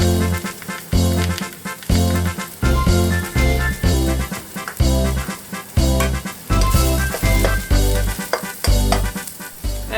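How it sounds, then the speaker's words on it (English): Spaghetti sauce with paprika sautés in one pot for cheese steak spaghetti. Loud, close sizzling comes in regular rhythmic bursts as the spoon stirs, about every half second, with no talk. "Stir that and saute for a minute."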